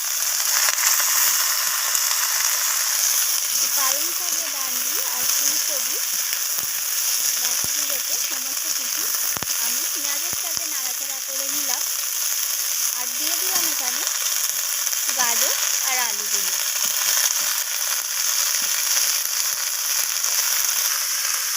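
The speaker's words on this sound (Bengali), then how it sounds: "বাকি সবজিগুলোকে আমি সাইড করে ফুলকপিটাকে একটু ভেজে নিচ্ছি" Cauliflower frying in a pan alongside mixed vegetables with spinach and cauliflower stalks, a steady loud sizzle running throughout with occasional scraping and stirring clicks, no talk.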